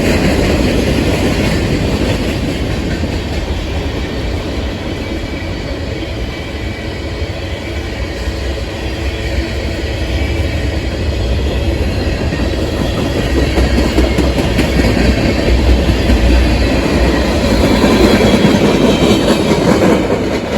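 A Norfolk Southern SD70ACE leads a trailing BNSF SD70MAC locomotive past, with a loud continuous rumble, rolling wheel noise and rhythmic rail clatter that holds strong throughout.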